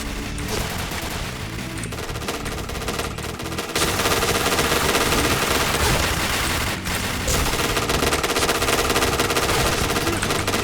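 Sustained automatic gunfire from a gun in the shooter game Point Blank, rapid continuous shots filling the whole stretch, loud and close, with a brief lull partway through and no talk.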